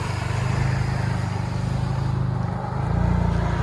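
Deep, steady exhaust drone from a 2020 Kia K5 GT turbo sedan fitted with straight pipes and a high-flow catalytic converter, close and loud throughout, swelling slightly louder near the end.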